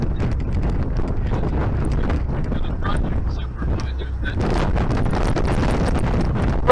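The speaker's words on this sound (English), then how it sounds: "It's windy as hell out there." Strong wind buffets the microphone on the open top deck of a Lake Mead paddle boat heading toward Hoover Dam, a heavy, rumbling gusting that continues throughout, with people talking faintly at times.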